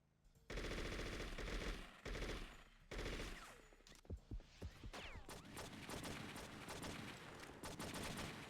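Sustained submachine gun fire in the True Crime: New York City video game: long automatic bursts start loud and close, then break into shorter staccato volleys and scattered shots mixed with game effects, with no talking.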